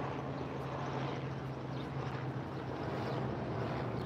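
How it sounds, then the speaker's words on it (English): A helicopter passes overhead, a low steady rotor drone and hum that holds at moderate distance throughout, with no talk over it. "You see that helicopter?"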